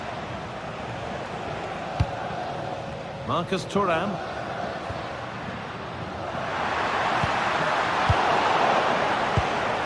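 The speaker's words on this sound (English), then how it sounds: "Well, just listen to this crowd. They want a bit more." A football stadium crowd hoping for an equaliser gives a broad, distant roar that swells louder in the second half, while a commentator talks over it.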